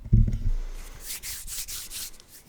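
A brief bump, then soft, steady rubbing of skin on skin in repeated strokes, close and fairly quiet, with no voices.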